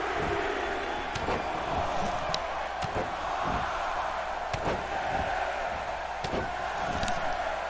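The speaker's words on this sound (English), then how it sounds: "And the crowd counts." Wrestling arena crowd chanting along with a pin count, a dense steady roar with rhythmic accented shouts and slaps throughout, no clear commentary over it.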